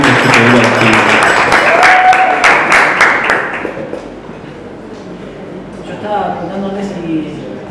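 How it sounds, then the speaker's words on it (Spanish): An audience at an evening talk show applauds guest Marlene with loud, crisp clapping that fades after a few seconds, and then a voice speaks. "Renovamos los aplausos a Marlene"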